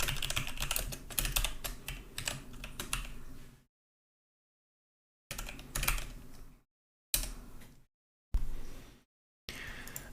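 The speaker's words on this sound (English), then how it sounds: "what's wrong with my typing today?" Rapid typing on a computer keyboard during a game-development session, dense key clatter in bursts with silent gaps between them, close and fairly loud with no talk.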